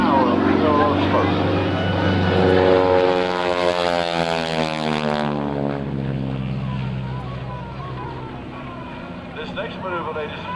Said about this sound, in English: The aircraft comes around, turns around, flies right back down his own tower of pillar of smoke.